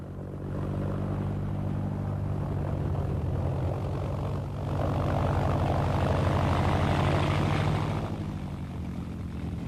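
The three engines of a Junkers Ju 52 transport aircraft run steadily as the pilots warm them up and match their revs. The propeller drone is loud and continuous and swells partway through. No voices are heard.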